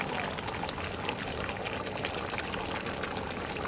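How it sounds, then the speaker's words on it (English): Palm oil poured into a pot of Efik Afang soup while cooking: a steady, dense, close pouring and sizzling wash that continues evenly throughout with no talking. "I'm going to put a bit more palm oil."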